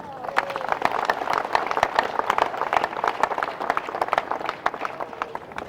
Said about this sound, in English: we should give a round of applause to Khadijat Lamidi Okuno.